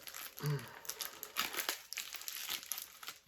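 Crinkling and crumpling of a yellow plastic postal package from Ukrposhta as it is handled and opened, a steady rustle with sharper crackles throughout, close and fairly loud, with no speech.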